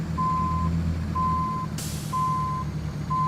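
A truck engine idles low and steady in American Truck Simulator while a reversing alarm beeps in even pulses, with a sharp air-brake hiss breaking in partway through.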